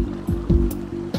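An aqua sled vehicle moves through water in the video game Spore, with a low steady droning hum broken by several short splashing bursts.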